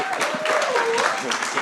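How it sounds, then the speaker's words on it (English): An audience at a parenting event claps in a steady round of applause while a voice talks over it. "can we just have a round of applause for Danielle, please?"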